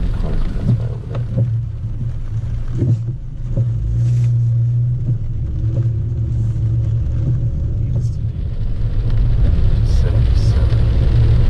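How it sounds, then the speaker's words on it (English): Cars pass along a road during a heavy rain storm near a fishing spot at Port Mansfield, a steady low rumble of traffic with swells of passing vehicles under continuous rain noise, with people talking over it. "Keep seeing cars pass by over there"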